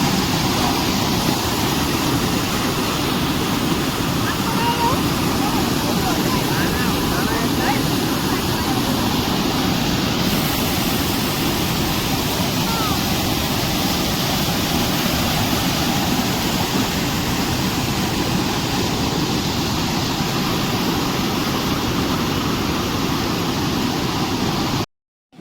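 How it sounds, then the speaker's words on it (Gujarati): Fast water rushes steadily into a canal, a dense, unbroken roar that stays loud and close for the whole stretch before cutting off abruptly. "પાણી બહુ ફાસ્ટ આવે છે"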